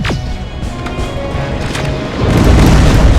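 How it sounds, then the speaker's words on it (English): Rockets explode in Terminator: Resistance, a sharp close boom followed by a swelling, roaring blast of debris and rumble that grows louder and sustains to the end, with no voices present. "Rockets! They're heading this way!"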